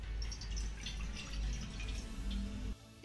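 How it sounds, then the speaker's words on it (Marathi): A bowl of water is poured into a kadhai on a gas stove, a steady splashing rush that runs for nearly three seconds before stopping abruptly. "आता यामध्ये घालूया 1 वाटी पाणी"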